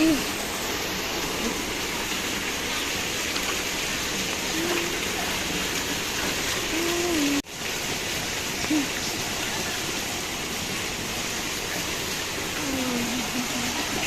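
Steady rushing flood water fills the scene, a continuous broadband wash of water flowing over a road, with brief faint voices underneath.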